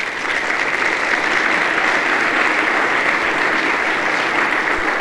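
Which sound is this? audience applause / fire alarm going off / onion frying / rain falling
audience applause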